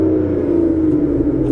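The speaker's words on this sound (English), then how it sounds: "we are greeted by the wonderful 6-litre V12, which sounds absolutely incredible" A stock Aston Martin Vanquish 6-litre V12 runs with a steady low rumble and hum, heard from inside the car, loud and continuous for a brief moment.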